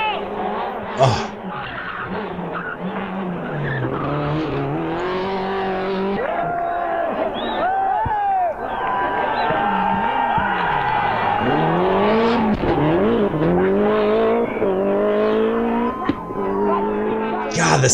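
Group A rally cars race flat out on a tarmac stage, engines howling and shifting in continuous loud passes, with crowd noise and excited talk over the top throughout.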